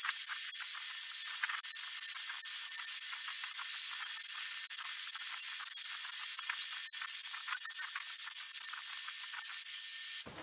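A Dyson Supersonic hair dryer roars steadily on high speed and medium heat, loud and close, a constant airy blast that cuts off abruptly at the end.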